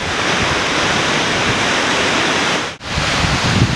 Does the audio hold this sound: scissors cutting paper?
no